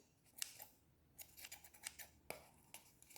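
Scissors snip through wool yarn wound for an amigurumi Shih-tzu's fur, a series of small, close, crisp cuts and metallic clicks at an uneven pace, quiet and with no talking.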